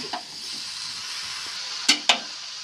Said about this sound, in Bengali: তো আলু মশলা ডুমুর খুব ভালোভাবে আবার একবার কষিয়ে নিচ্ছি।